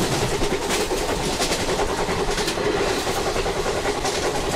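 A WAP5 electric locomotive pulling a Shatabdi express in the MSTS train simulator, rolling at speed with a steady rumble and rhythmic clickety-clack of wheels on rail joints.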